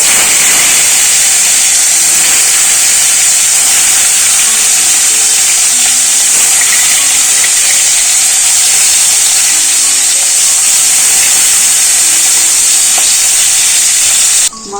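Rohu fish frying in hot mustard oil in a wok, a steady loud hissing sizzle that holds evenly throughout and cuts off abruptly at the end.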